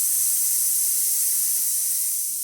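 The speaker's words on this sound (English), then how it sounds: "We're going to open the steam on right here." Steam hisses loud and steady from the wand of a La Pavoni Euro espresso machine being tested during servicing, a bright, continuous, close jet that fades slightly at the end with no talking over it.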